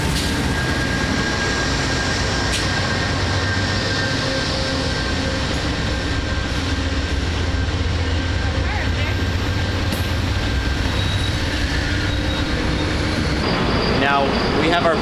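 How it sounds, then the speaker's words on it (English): An Amtrak train rumbles steadily nearby, its low mechanical drone and hum holding throughout with faint squealing and clanks toward the end. "we're getting them ready to go on the train"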